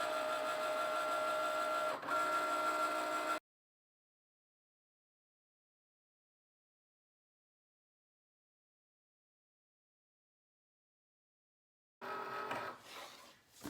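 A Cricut cutting machine prints and cuts cardstock for file labels, giving a steady mechanical whir with a faint high tone for several seconds, then a long silence before the motor noise starts up again.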